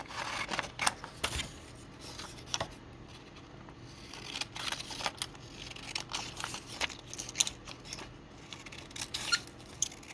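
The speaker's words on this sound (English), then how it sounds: "I'm just cutting it even as I can." Scissors cutting paper from junk mail envelopes for a craft pocket, giving sharp intermittent snips and crisp rustles close by, fairly quiet and unevenly spaced.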